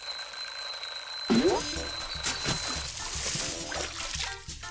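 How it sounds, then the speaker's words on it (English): Cartoon alarm clock ringing loudly with a continuous busy clatter, set over a cartoon musical soundtrack with a rising tone near the start. "What's that? It's the alarm, Wussy Wat."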